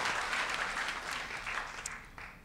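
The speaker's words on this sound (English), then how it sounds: "Let's give God a real applause." A church congregation applauds steadily during a sermon, a dense wash of many hands clapping that fades slightly toward the end.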